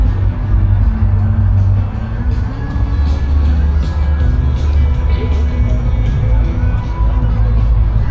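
Crowd hubbub at a motorcycle bike night, an outdoor gathering where many voices blend into a steady loud murmur with occasional raised calls, over a low continuous rumble of idling engines and traffic.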